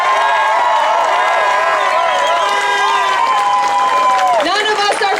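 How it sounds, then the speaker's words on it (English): Crowd at an outdoor marijuana march in Texas cheering and applauding veterans, with loud sustained shouts and high whoops ringing over continuous clapping from a close, packed gathering. "Let's hear one more round of applause for our veterans."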